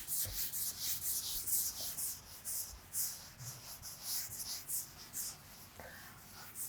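An eraser rubs writing off a board during a classroom lesson, with repeated soft scrubbing strokes in an uneven rhythm, quiet and close.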